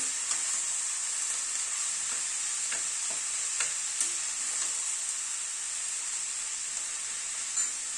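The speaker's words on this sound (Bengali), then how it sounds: "বাঁধাকপিটাকে ভালো করে মিশিয়ে দিচ্ছি" Cabbage is stirred and mixed in a hot pan with spices, a steady sizzle of frying under repeated scraping strokes of a spoon against the pan.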